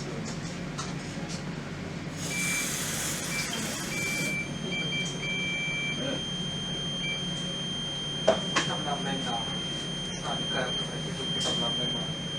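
Reconditioned smoke detector heads sound a high, steady electronic beep during testing, a clear tone lasting a few seconds, then shorter repeated bursts, over a constant background hum with faint clicks.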